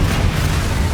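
Bombarda explosion spell in Hogwarts Legacy detonates as a dense, roaring blast that fills the whole second with rumbling, wideband noise and no clear attack or decay.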